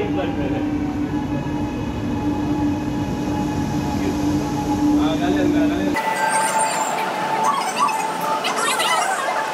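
Chennai metro train running, a steady loud rail rumble with a sustained hum, cutting abruptly to a brighter in-car ambience with scattered voices in the background.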